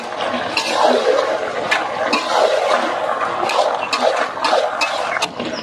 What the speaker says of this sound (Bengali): এবারে আমি আলুগুলো দিয়ে দেব, ভেজে রাখা আলুগুলো এবারে